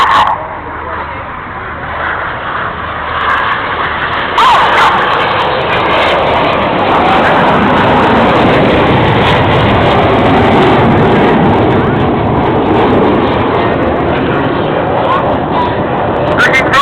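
Red Arrows jets at the Folkestone air show roar continuously overhead in a loud, broad rushing drone that swells and holds throughout, while a commentator talks over a public address system.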